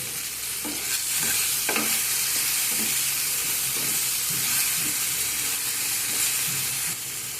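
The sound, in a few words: tomatoes with salt frying and being stirred in pan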